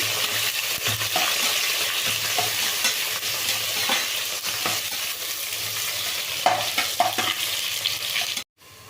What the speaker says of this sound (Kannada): ಈರುಳ್ಳಿ ಚೆಂದ ಫ್ರೈ ಆಗಲಿ.